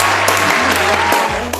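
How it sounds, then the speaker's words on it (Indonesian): A brief burst of dense clapping and applause from a crowd, loud and close, over a low steady hum. "tepuk tangan dulu"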